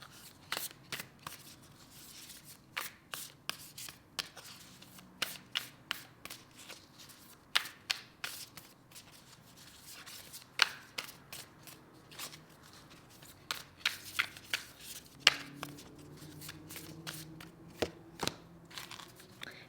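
Oracle cards are shuffled by hand, with a steady run of crisp riffling bursts and snaps repeating every half second or so, close and fairly quiet, with no talk over them.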